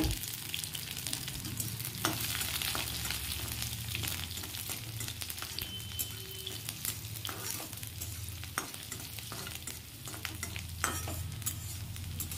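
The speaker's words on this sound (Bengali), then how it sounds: "পেঁয়াজগুলো দিয়ে ভালো করে ভেজে নিচ্ছি" Onions and garlic frying in a pan for a taro stem dish, with a constant quiet sizzle and occasional scrapes of a spatula stirring, no voices.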